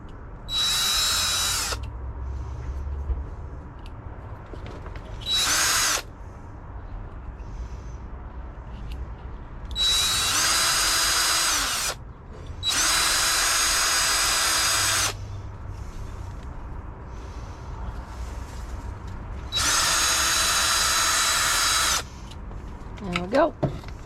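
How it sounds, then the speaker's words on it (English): A power drill bores holes in a plastic bottle for a custom planter, whining loudly in five separate bursts of a few seconds each, with quieter handling noise in the gaps between them. "Drill it the other way."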